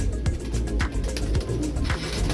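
Close, steady cooing from Neel Dumba pigeons, several low throaty calls overlapping in quick succession above a constant ambient rumble.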